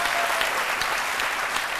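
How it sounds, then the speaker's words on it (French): Steady, dense applause from a studio audience for the musician Éloi Sessou on a midday TV show, loud and continuous throughout the short stretch. "Merci de l'applaudir, hein."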